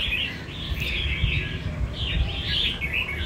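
A caged songbird sings loudly and continuously, its sharp bright chirps and warbled phrases rising in two main bursts over a steady low background rumble.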